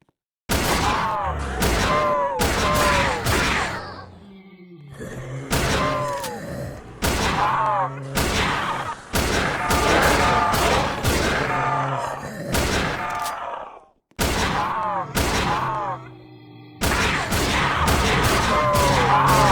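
A Super Shorty shotgun fires fully automatic in Call of Duty zombies on Project Lazarus: loud rapid bursts of heavy blasts, broken by short pauses and reloads, repeated throughout.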